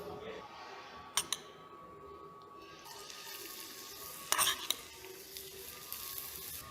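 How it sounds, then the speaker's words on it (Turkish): Olive oil sizzles in a hot pan while a sauce is started, a steady soft hiss with a few brief clinks and scrapes of utensils, fairly quiet and close, with some voice faintly present. "tavamız ısındıktan sonra zeytinyağımızı ilave ediyoruz"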